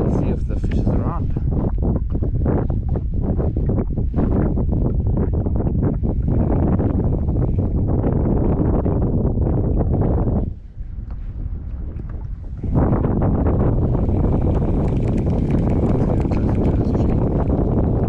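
Wind blasting the microphone on a small fishing boat, a loud, steady rumbling roar that briefly drops before surging back, with voices underneath.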